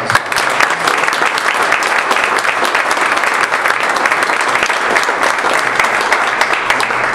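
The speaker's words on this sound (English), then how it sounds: "how about a nice round of applause?" A large audience gives a round of applause at a sports business gathering with Detroit Red Wings figures, a dense, even wash of clapping sustained for the full seven seconds.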